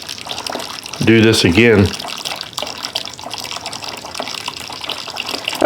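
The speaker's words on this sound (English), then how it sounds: "I finished sparging over until I collected 6 gallons of mash" Hot water splashes and pours steadily over a single malt grain mash during sparging for whiskey, a continuous close rushing flow, with someone speaking briefly over it.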